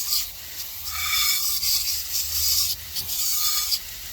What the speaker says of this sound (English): I'm gonna turn half of it on a little bit and just rub my fingers on it, get all the debris off.